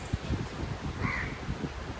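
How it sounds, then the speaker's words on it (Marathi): Crows feeding on rice thrown for them near a beach, a few harsh caws close by over breezy outdoor rustle and wind noise. "इकडे कावळ्यांना भात टाकलेला त्यामुळे असं त्यांचं पण जेवण चालू आहे"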